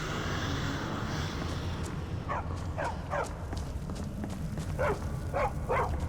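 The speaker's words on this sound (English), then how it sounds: "Don't just bark for no reason, Miko." Dog barking in a video game, set against a steady low background hum: two sets of three sharp, mid-distance barks, the second set a little louder.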